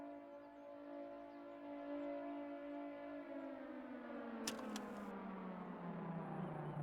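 An air raid siren sounds from a radio tower in the Ground of Aces video game, a wailing tone that holds and then slowly winds down in pitch, moderately loud with a brief click partway through.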